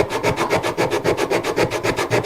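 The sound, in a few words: sanding wood with a sanding block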